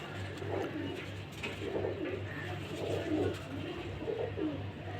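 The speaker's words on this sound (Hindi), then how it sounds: "उस्ताद नईम भट्टी साहब के घर से डायरेक्ट कबूतर लिए हुए हैं उन्होंने।" Pigeons coo softly and repeatedly in a low, rolling rhythm, several birds overlapping, with a steady background hum.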